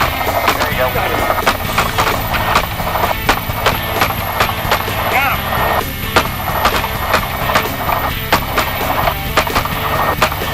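Repeated sharp gunshots ring out from a helicopter during a hog hunt, cracking irregularly over a constant rotor and engine drone, with people talking in between.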